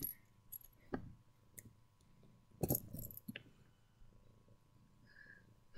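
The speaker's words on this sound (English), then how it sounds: "You is the adorable kitty cat." Soft, close purring from a cat, low and continuous, with a few brief rustles and clicks nearby.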